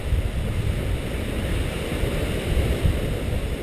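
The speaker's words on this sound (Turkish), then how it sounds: "Rüzgar var." Wind rushing over the microphone during a tandem paraglider flight near a beach, a continuous loud rumbling roar with gusty swells and no voices.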